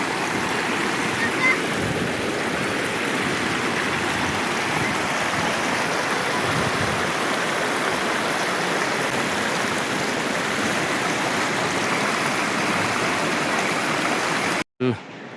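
Water of the Narmada river rushing steadily at a riverside ghat, a continuous broadband babble and wash that fills the whole span and cuts off abruptly near the end.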